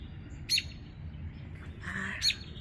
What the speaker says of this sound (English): I saw this baby bird.